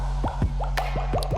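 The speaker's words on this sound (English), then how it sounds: "I mean the water drop sounds." Plinking water-drop effects in a song: about six quick, bubbly drips in an uneven rhythm over a low, sustained musical tone.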